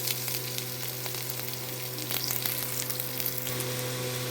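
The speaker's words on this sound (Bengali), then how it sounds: "তো গার্লিক আর অনিয়নটাকে ফ্রাই করছি।" Garlic cloves and onion fry in oil with cloves, cinnamon and cardamom for home-style butter chicken, a soft, steady sizzle with occasional faint stirring clicks over a low background hum.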